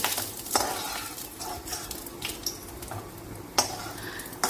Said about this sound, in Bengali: কাজু বাদামগুলো হালকা একটু লাল করে ভেজে